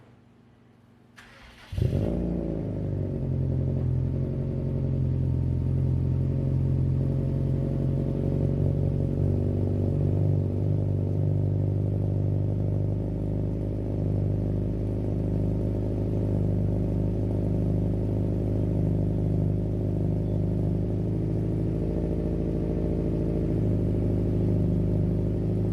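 A Subaru STI fitted with a new exhaust starts up and settles into a steady, loud, rumbling idle close by, with a few light revs over roughly twenty-five seconds and no talking.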